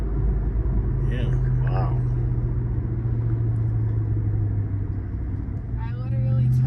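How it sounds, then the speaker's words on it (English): A Ram TRX pickup drives along with its supercharger whining over a steady, heavy engine drone and road rumble inside the cab. Voices make brief remarks above the constant hum. "You hear that good old supercharger whine?"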